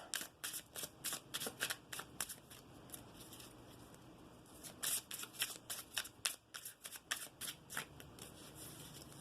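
Repeated crisp riffling bursts of tarot cards being shuffled, close up, in quick uneven rhythm with brief pauses between shuffles.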